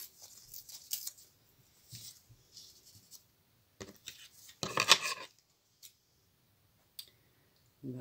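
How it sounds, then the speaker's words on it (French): Scissors snipping through a photo in a series of sharp close clicks and cuts spread out with quiet gaps, one longer burst of cutting in the middle, and no voice. "Tac, la photo, celle-ci, on va carrément"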